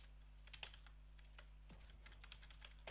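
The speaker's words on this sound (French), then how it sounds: "On entend bien le clavier, ça me fait trop rire." Quiet computer keyboard typing during a 1v1 gaming session, sparse individual keystrokes clicking close to the microphone over a steady low electrical hum.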